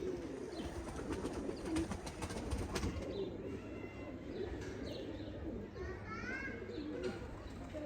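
Lakha pigeons, a breeder pair, coo softly at a home loft amid a dense low murmur, with a few brief higher chirps toward the end; a voice talks faintly underneath.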